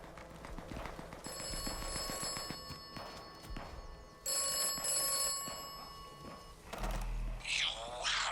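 Phone rings in the Atomfall video game, with repeated trilling bursts over footsteps and rustling game ambience, fairly close and clear amid the background clutter.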